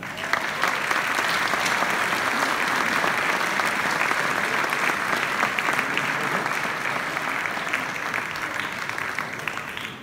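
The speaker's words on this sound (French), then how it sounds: "on vous applaudit encore" A crowd at a town New Year's greetings ceremony in Vias applauds during a medal presentation, sustained even clapping that holds for ten seconds with a faint murmur of voices underneath.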